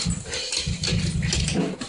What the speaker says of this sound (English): the drums are making the dogs be all crazy